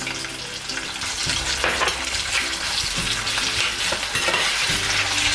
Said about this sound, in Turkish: Yağın içinde bir güzel çeviriyorum.